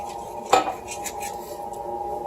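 A spoon stirs sauce in a pan. One sharp clink of metal on the pan stands out, followed by quiet scraping and a faint sizzle.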